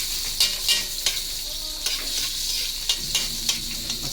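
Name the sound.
tomatoes sautéing in a pan for monggo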